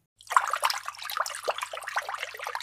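Water splashes and trickles over a small plastic toy panda being washed clean of mud, a close, steady spattering that starts abruptly and runs on without pause.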